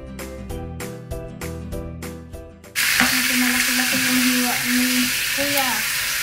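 Pork pieces dropped into a hot pan for Filipino adobo with onion and garlic, bursting into a loud, steady sizzle after a few seconds of musical background, hissing continuously up close while a voice speaks over it.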